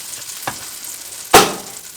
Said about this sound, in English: Our butter's heating up in our natural wood stove.